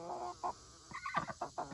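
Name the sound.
young chicken clucking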